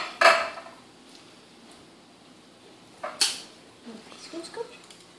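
Zucchini bread muffin batter is loaded into a muffin tin with a few sharp, spaced metal clinks and scrapes against a quiet kitchen background.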